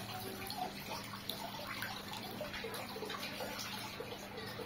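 Water squirting and splashing in a swimming pool, with a steady gushing flow and a few drips at moderate distance under faint background voices.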